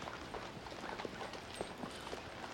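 Horse hooves clip-clop at a horse auction, a steady series of light, fairly faint hoof knocks over a busy background murmur.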